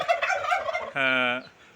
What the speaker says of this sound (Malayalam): പിന്നെ ഈ ടർക്കി ഇത്